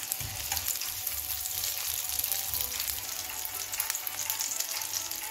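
Turnip (shaljam) kebabs sizzle steadily in a hot pan, a continuous crackling fry with dense spitting and popping that holds at an even level throughout, with no voices.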